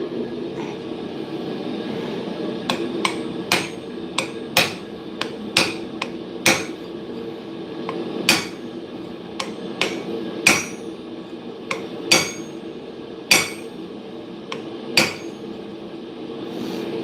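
A hammer strikes a chisel at a blacksmith's forge, sharp metallic clanks landing in quick runs with short pauses between, ringing loud over a low steady hum.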